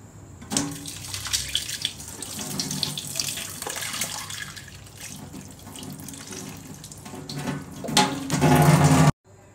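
Tap water runs steadily into a container for a dragonfruit shake, a close, continuous splashing rush that swells louder near the end before cutting off abruptly.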